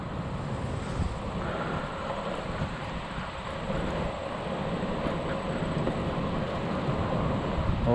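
Strong wind gusts during a long-distance bike ride, a loud, rough, continuous roar of buffeting air that swells slightly toward the end, with no speech.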